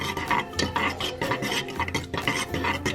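A spoon stirring a thick homemade Play-Doh mixture tinted with white food coloring in a pot, with steady scraping and clinking strokes in a repeating rhythm, close and fairly loud with no talking.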